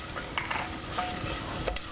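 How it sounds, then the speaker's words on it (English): Ajwain seeds and other whole spices sizzle in a pan for rice pulao, a steady soft crackle and hiss with brief stirring clinks near the end, close and alone. "we let our spices sizzle for just a few seconds"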